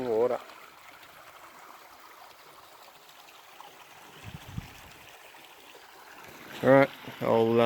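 A clean stream flowing outdoors, its soft continuous trickle and gurgle running faintly in the background, with brief bursts of a voice at the start and near the end.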